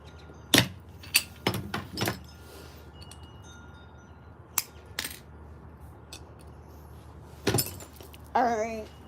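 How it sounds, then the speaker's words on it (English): Art glass is scored and snapped in a few sharp, separate cracks and clinks, spaced apart over a quiet background, with a brief voice near the end. "Cut a little more off that"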